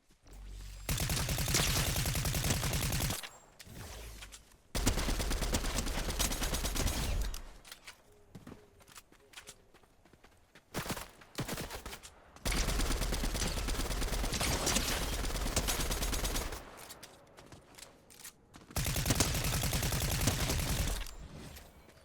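Bursts of rapid automatic gunfire in Fortnite, loud and sustained for several seconds at a time, separated by short gaps with lighter scattered shots and mechanical clicks.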